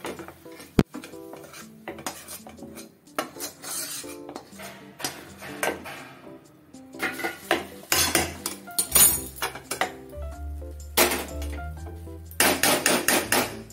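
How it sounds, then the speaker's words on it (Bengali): Cooked tomato and vegetables tipped into a pressure cooker, with sharp clanks and clinks of metal utensils against the pot, scraping and stirring, and a few loud knocks near the end. "কুকারে ঢেলে নেবো।"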